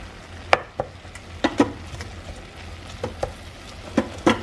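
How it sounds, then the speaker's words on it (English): Chopped onion being stirred into a hot frying pan for chilli, soft scraping and clacking strokes coming in irregular bursts over a faint low sizzle, close and fairly quiet. "so I'm just going to add our onion. So I'm just gonna stir that in."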